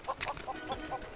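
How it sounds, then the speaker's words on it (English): Chickens cluck in the Lego Worlds video game, a short run of five or six close, clear clucks in quick succession with no talk. "so they are some chickens"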